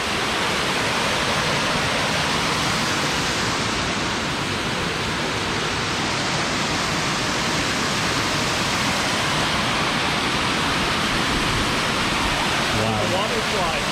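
Water trickling and cascading down rocks from several points in the woods, a steady broadband rush like a small waterfall, close and continuous for the whole stretch with no pauses.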